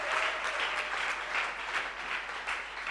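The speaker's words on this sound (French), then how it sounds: "j'aimerais qu'on acclame beaucoup pour le Seigneur" A church congregation claps in praise to the Lord during a pastor's service, a soft, fairly distant patter of many hands that swells and dips in waves across a few seconds.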